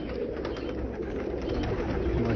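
Pigeons cooing in a breeder's loft of spare birds and young kept for breeding, a steady layered murmur of low soft coos running continuously throughout.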